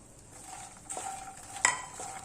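Makhana (fox nuts) tossed in melted butter in a pan, with a soft sizzle under light scraping and a couple of sharper clinks of the spoon against the pan.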